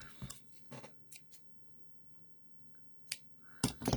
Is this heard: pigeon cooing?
no